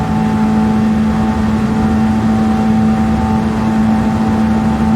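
A race car laps a circuit in Gran Turismo 7 during a Nations Cup test round, its engine a loud, steady sustained drone with a constant tonal hum and no break throughout.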